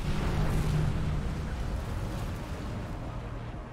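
Missiles exploding in the mecha game Armored Core 6, a dense, continuous low rumbling roar of blasts that stays loud throughout, with no separate clear impacts.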